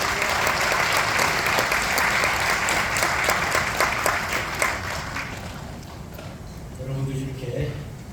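An audience at a church lecture seminar gives sustained applause to welcome a professor, then the clapping thins out and fades toward the end.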